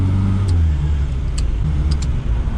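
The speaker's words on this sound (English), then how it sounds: "Oh, I love the gear changes on it. I really do. Because you get a nice little click." Faint, sharp little clicks of gear changes on a three-wheeler, three or four spaced over a couple of seconds and sitting under the steady drone of the running engine.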